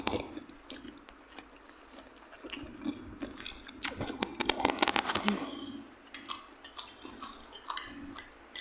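Crunchy raw vegetables eaten with spicy Thai papaya salad, close crisp bites and chewing in irregular bursts, with a loud crunching stretch in the middle and people talking and laughing throughout.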